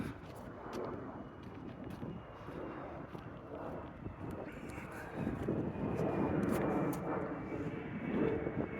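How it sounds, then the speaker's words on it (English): Airplanes passing overhead on an open moorland hillside, a broad steady engine roar that swells louder toward the end, with wind buffeting the microphone. "There's pretty much constant planes going over."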